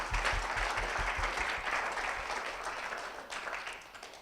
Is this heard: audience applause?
yes